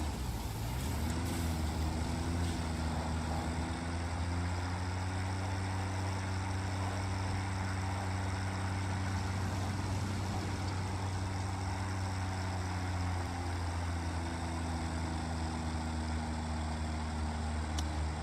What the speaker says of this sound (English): The little tractor that could